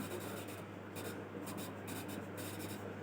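Chalk or marker scrapes across a classroom board during an economics lesson, a steady scratchy rasp of continuous strokes over a low electrical hum, with no speaking.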